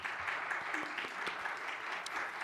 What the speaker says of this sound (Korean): 우리 김강원 형제님 박수.